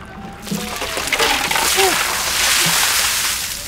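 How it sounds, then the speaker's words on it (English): Bucket of ice water poured slowly over a person for the ALS Ice Bucket Challenge, a loud continuous splashing and sloshing outdoors, with a short cheer and voices near the start. "I made sure I poured slow."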